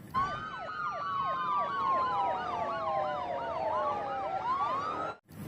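Toy police patrol car siren wailing loudly and continuously in rapid rising-and-falling sweeps, close by, cutting off abruptly at the end.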